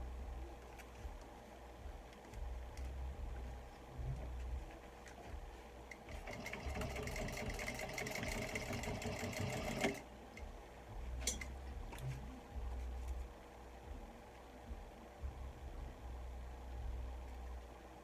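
A Juki 1541 industrial sewing machine stitches a bag panel at a 4.5 stitch length, its steady mechanical whirring growing loud and busy for a few seconds in the middle, with a low motor hum and faint clatter throughout.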